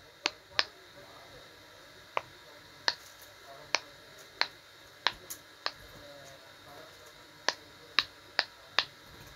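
Unicorn Pop It silicone fidget toy being pressed, giving sharp, soft little pops in irregular bursts of one or two at a time, close and fairly quiet against a faint background hiss.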